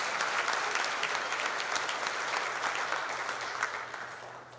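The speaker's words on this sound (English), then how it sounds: "So I'd really like all of us to give both Brad and Clay a round of applause." An audience claps warmly at the Kahok Hall of Fame ceremony, a dense and steady round of applause that holds for several seconds before slowly tapering off.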